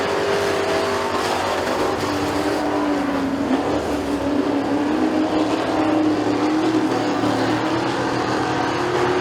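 Race cars at McKean County Raceway roar into turns 3 and 4, a loud, continuous blend of engines rising and falling as the pack sweeps through the corner.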